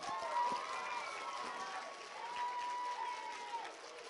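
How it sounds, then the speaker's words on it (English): An audience at a school library reading competition event applauds, steady clapping filling the room at moderate volume with no speech over it. "Give yourselves a round of applause."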